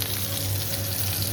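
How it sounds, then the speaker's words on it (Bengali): Fish sizzles in hot oil in a home kitchen, a dense, steady crackle and hiss that runs without a break, with no voices over it. "এদিকে বাবা মাছ ভাজা হচ্ছে"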